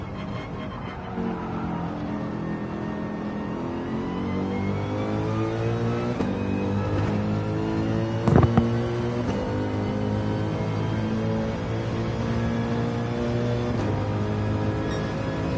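Steady engine drone of a car in the Gran Turismo 7 racing game, holding a sustained revving pitch throughout with a brief sharp knock near the middle, no voices.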